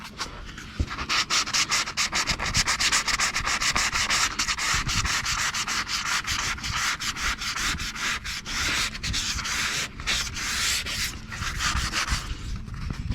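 Dense, steady rasping of light hand sanding on a car rocker panel ahead of spray painting, rapid back-and-forth strokes scuffing the already-roughened surface continuously up close with no talking.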